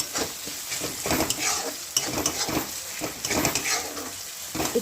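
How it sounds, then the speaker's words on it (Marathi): Tomatoes being stirred in a pan while cooking pav bhaji make repeated scraping strokes of a spatula over a constant sizzle, near and steady, with no voices. "इकडून तिकडून हलवत राहायचं।"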